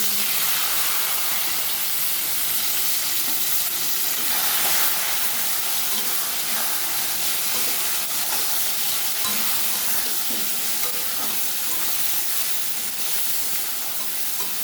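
Chopped onion and tomato frying together in a pan for chicken biryani, a loud, dense and continuous sizzle with faint stirring scrapes throughout and no talking.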